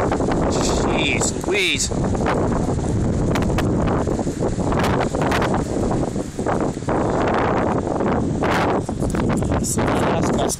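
Strong night wind gusts outdoors in the cold, a loud continuous roar buffeting the microphone with rushing swells, and a man exclaims briefly partway through.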